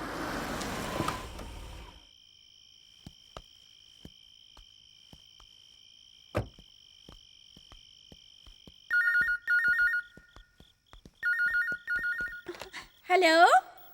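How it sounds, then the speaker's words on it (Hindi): A telephone rings in a domestic scene, repeated electronic trill bursts coming in clusters in the latter half after a quieter stretch with faint ticking, loud and close, preceded by talking and music at the start. "दीदी, तुम्हारा फोन है।"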